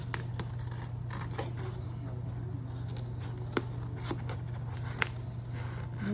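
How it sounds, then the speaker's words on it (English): Scissors trim the paper of a junk journal in a series of quiet, sparse snips and small crackles over a steady low hum. "So we're gonna trim it."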